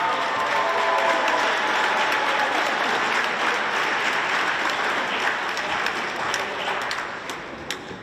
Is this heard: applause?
yes